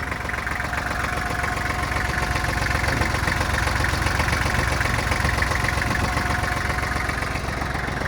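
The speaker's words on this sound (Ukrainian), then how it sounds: "І наостанок поглянемо роботу його двигуна" A Kubota GL-25 mini tractor engine idles steadily and close by, a continuous rumbling chug with a fast, even rhythm and no talking.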